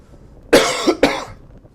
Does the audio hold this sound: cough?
yes